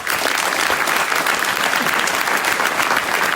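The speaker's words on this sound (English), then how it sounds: "Big applause for our speaker." Audience applause for a speaker at a machine learning tech meetup, a dense, even wash of clapping that holds steady from start to finish, loud and continuous with no voices.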